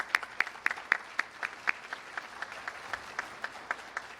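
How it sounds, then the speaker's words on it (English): An audience at an electric cooperative's annual meeting applauds the board candidates, heard as faint, fairly regular claps at a distance with no voices. "How about a big hand of applause for all of these"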